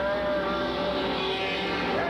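Super stock race cars roar around an oval track at Freedom, engines droning loud and continuous as the pack passes, with no one speaking.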